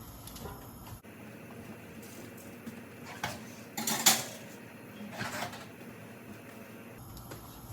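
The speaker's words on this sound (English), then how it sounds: "I'm going to put these in the oven." A baking tray of asparagus slides into a 375-degree oven, giving a few faint metallic clanks and rattles in the middle of an otherwise quiet kitchen, with no talking.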